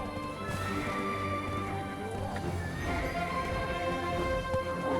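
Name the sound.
horse riding in Black Desert Online video game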